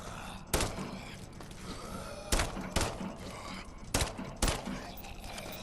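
Gunfire in the 2024 System Shock video game: about five sharp shots, some in quick pairs, crack out over a steady, moderately quiet game ambience.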